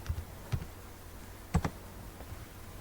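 A computer keyboard is tapped with a few sparse key clicks, close and fairly quiet, spaced irregularly with short pauses between them.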